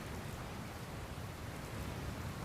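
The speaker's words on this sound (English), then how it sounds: "Where'd this rain come from?" Rain and thunder from a stormy scene in the video game Dragon Quest Builders 2, a steady, even hiss of rainfall with a low rumble underneath, no speech.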